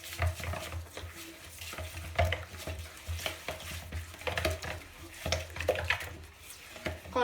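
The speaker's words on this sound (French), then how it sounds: "On mélange." Blighat batter with sesame seeds being stirred in a bowl, a steady run of soft scraping and clinking strokes, moderately close, with faint background noise and no talk.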